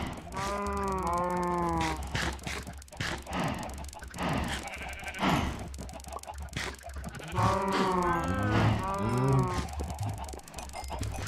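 Sheep in the video game Minecraft bleat repeatedly in quavering, wavering calls, clustered near the start and again toward the end, loud and close with no talking.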